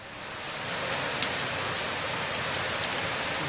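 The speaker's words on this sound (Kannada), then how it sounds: "ಬೆಳಗಾವಿಯ ಅಥಣಿ ಭಾಗದಲ್ಲೂ ಕೂಡ ಸಾಕಷ್ಟು ಮಳೆಯಾಗ್ತಾ ಇದೆ" Monsoon rain falling in the Athani area of Belagavi, Karnataka, a steady hiss of rain on surfaces that swells in the first second and then holds even and moderately loud, with no voices.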